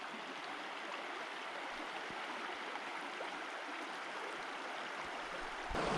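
Heart River flowing at a wide, shallow ford, a steady broad wash of moving water heard up close and fairly faint, ending in a brief louder splash.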